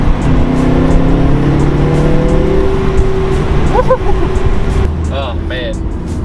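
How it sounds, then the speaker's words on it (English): A turbocharged car pulls hard through second gear and up toward fourth on a cold day, its engine note rising steadily and loud, with brief pauses at the shifts; a voice talks briefly near the end. "We can go for a cheeky little second pull, second gear pull, all the way up to fourth"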